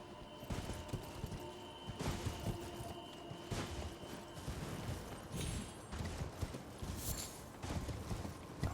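Rhythmic horse hooves clip-clop steadily at close range in the video game Elden Ring, a continuous trotting pattern with a faint electronic hum underneath.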